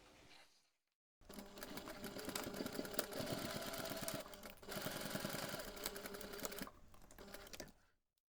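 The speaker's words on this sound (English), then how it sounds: "Now you can take this to the machine and top stitch close to those folded edges" A home sewing machine runs steadily, top stitching close to the folded fabric edges of a small earbuds holder. It whirs in two long continuous bursts with a brief pause between them, fairly close and without talk.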